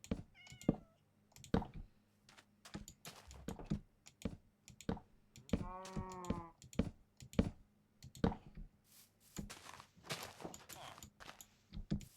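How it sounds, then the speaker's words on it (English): A small kitten meows in short, bright calls around the middle, mixed with clicking and tapping like keyboard typing, while people talk nearby. "Oh, look at the little kitty."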